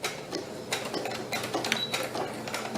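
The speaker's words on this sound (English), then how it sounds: "Hopefully my sewing machine is going to play the game." A domestic sewing machine runs in short bursts while stitching a fabric puffed pillow, its whirring mechanical chatter starting and stopping several times at close range with no voices.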